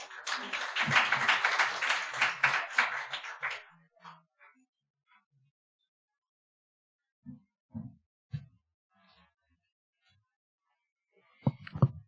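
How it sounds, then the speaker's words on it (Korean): Audience applause welcoming a speaker to a forum at the National Assembly, a dense burst of clapping that fades out after a few seconds, followed by scattered soft thumps and knocks in near silence. "나오실 때 큰 박수로 환영해 주시면 감사하겠습니다."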